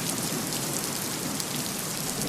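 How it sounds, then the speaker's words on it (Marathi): Heavy monsoon rain pours down steadily in a flooded area, a dense, even hiss of drops beating on surfaces, loud and constant without pauses or voices. "पावसानं आज पुणे, बारामती, मुंबई या परिसरात झोडपून काढल्यानंतर"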